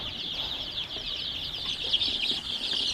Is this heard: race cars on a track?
no